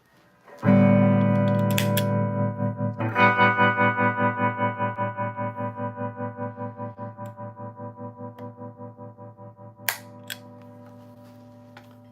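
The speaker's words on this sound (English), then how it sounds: "Jesse, there's a separate foot switch to trigger the reverb and the tremolo from the amp" Electric guitar played through an amp's reverb and tremolo effects: one sustained chord rings out, then a second chord pulses in steady tremolo waves that slowly fade, with a couple of sharp clicks later on.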